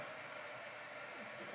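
An embossing heat gun blowing hot air to dry a craft piece, a close, steady high-pitched whooshing hiss that holds constant throughout.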